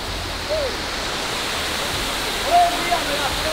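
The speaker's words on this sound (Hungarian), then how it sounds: "Szóval ez itt a Los Cocos vízesés" The Los Cocos waterfall in the Dominican Republic roars steadily and loudly throughout, with a couple of brief faint tones above the rushing water.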